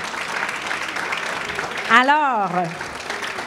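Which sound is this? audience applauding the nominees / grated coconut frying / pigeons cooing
audience applauding the nominees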